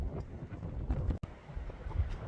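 Strong wind buffets the microphone outdoors beside San Francisco Bay, within view of the Golden Gate Bridge, a steady low roaring rumble with gusty surges and one brief dropout, with no voices.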